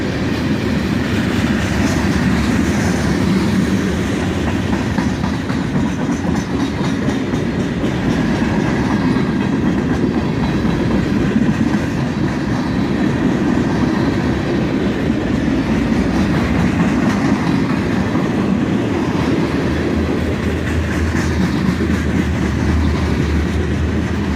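A CSX freight train with boxcars rolls past close by, picking up speed, its loud continuous rumble and clattering wheels filling the scene without pause.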